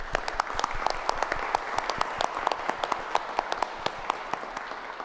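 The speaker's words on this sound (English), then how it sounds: "So let's give a round of applause for all the mothers out there." Audience applause at a city council meeting, a modest crowd clapping steadily in a room. Individual sharp claps stand out over a continuous patter for about five seconds.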